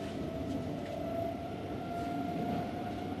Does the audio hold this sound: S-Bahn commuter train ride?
yes